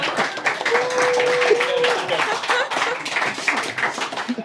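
Applause from a small audience at a German talk-show style interview, uneven clapping that swells and thins, with voices speaking over it and a brief tone in the mix.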